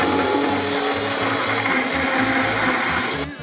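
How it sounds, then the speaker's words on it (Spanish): A blender whirs loudly and steadily as it mixes ricotta, fig and erythritol, then cuts off just before the end. "Y voy a volver a batir."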